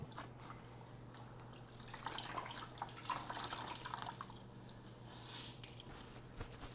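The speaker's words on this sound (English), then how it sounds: "I'm going to rinse it in some clean water that I have in this bucket." A scoured scarf is swished and squeezed in a bucket of clean rinse water, giving soft squishing, sloshing and dripping sounds that swell in the middle, fairly quiet and close with no talk.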